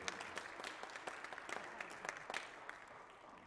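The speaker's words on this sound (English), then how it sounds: "All right, so give them a round of applause." Applause from a jazz ensemble audience honoring its soloists, a fairly quiet, dense patter of clapping with a few sharper claps standing out, holding steady and then thinning toward the end.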